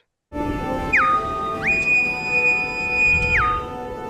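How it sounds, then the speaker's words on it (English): A Star Trek bosun's whistle effect made for a fan film: steady high electronic tones that glide up, hold, then slide back down over a low hum, with no voices. "The Bowman's whistle is used, so that was specially made also too as well for the film."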